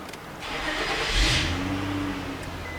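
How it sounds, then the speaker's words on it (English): A 2007 Infiniti FX35 engine cranking and catching, then settling into a smooth idle, fairly quiet and close, with no voices. "Let's go ahead and start this thing up."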